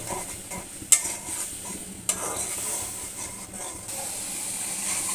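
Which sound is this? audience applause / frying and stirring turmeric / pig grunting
frying and stirring turmeric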